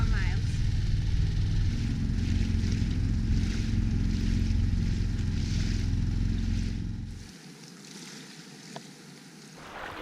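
A small outboard motor on a sailboat's dinghy drones steadily on clear open sea water with wind buffeting the microphone, then the engine cuts out, leaving quieter water and wind.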